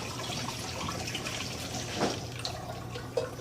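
Running water rinses out brewing equipment in a backyard gin and absinthe setup, a soft continuous trickle and splash with a few faint drips, fairly quiet.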